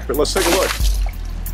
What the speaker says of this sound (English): we're having to manually throw water on it because we can't get enough water on the deck